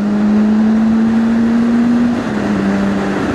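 A BMW S1000RR sport motorcycle engine pulls hard in second gear with a loud, sustained drone whose pitch climbs slightly and then dips near the end, heard close up.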